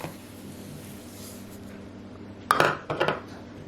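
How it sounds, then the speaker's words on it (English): Pecans are stirred in a bowl to coat them in a mixture for candied pecans. After a quiet stretch, a spoon scrapes and clinks against the bowl in two short bursts near the end. "Mix these up until the pecans are completely covered with this mixture"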